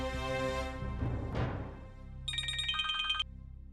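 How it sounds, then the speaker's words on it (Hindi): A telephone rings with a bright electronic trill after a brief rush of background noise, the ring cutting off abruptly near the end. "मानव, आप प्लीज उसे फोन कीजिए और उसे पूछिए, और हाँ स्पीकर पे रखिए"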